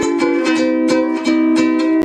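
An Ovation UCS10/5SE electric ukulele, amplified through a Fishman amp, strums steady chords, each stroke bright and ringing, played close and loud with no voices.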